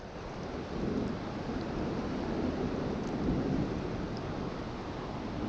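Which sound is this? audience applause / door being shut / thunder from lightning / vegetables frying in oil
thunder from lightning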